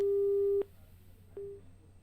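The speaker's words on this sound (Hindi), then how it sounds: "लगता है फोन डिस्कनेक्ट हुआ है" A phone line disconnects and gives a steady electronic busy tone, one long beep that breaks off and then a second short beep, plain and close with no voices.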